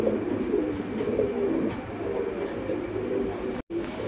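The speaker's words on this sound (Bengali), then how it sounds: "পুতুল এটা আসলে পুতুল না, এটা একটা কবুতর" A pigeon coos softly over steady low background rumble, the calls repeating through a few seconds with a brief dropout near the end and no speech.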